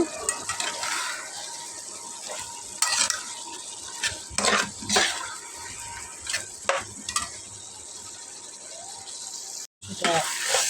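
Meat for biryani is stirred in a pot as its liquid cooks down, with scattered scraping and clattering strokes over a low simmering sizzle, moderately loud, and no talking.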